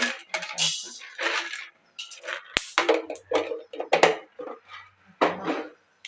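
Chopped onions tumble into a frying pan with a scatter of clattering, rattling knocks, close and fairly loud, arriving in several bursts with short pauses between.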